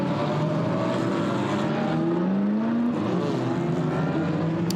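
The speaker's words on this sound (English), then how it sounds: "So the cars leave the line, making their way up now towards the right-hander of Copse Corner" GT race cars at Silverstone leave the line together in a qualifying race for the Blancpain GT Sports Club, producing a steady, dense engine roar with rising and shifting tones as they pull away. No voices are heard.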